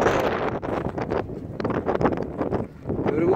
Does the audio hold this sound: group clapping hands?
no